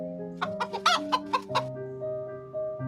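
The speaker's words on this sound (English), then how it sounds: "The chicken was the first to notice. Cluck, cluck." A chicken clucks in a quick series of sharp, close clucks over a steady tonal background hum, and no one speaks.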